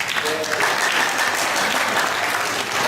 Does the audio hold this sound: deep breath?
no